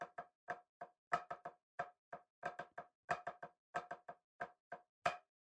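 Cheese inverts, a hybrid drum rudiment, played slowly on a practice surface: crisp, close strokes in short clustered groups with flams, a steady repeating pattern over several seconds, quiet and dry with no talking.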